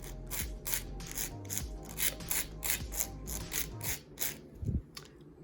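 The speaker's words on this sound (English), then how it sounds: "We're going to take our file, we're going to hold it against it, and we're going to go and file" Nail file rasped back and forth across a fingernail tip to shape it square, a quiet run of rhythmic scratchy strokes about twice a second, close and alone without speech.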